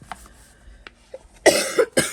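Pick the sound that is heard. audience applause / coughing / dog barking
coughing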